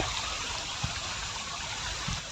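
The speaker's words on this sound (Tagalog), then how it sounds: "Yung ilog yan oh. Ayan oh. Ilog yan." A river stream flows along a shaded, rocky riverbank, giving a steady, close, broadband wash of running water with a couple of faint low knocks; no talking is heard.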